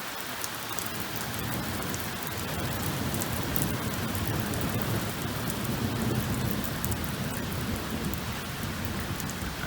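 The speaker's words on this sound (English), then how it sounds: "At least we're gonna get some rain to keep everything green." Steady rain pours down outdoors over a residential neighborhood, a dense continuous hiss of drops on surfaces, with faint low rumbles of distant thunder beneath it.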